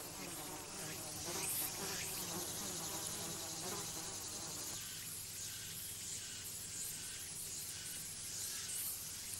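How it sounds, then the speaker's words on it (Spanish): A wasp digging out a burrow in the ground, giving a faint, continuous insect buzz that hums steadily throughout with no voices. "La avispa continúa excavando de nuevo la cueva."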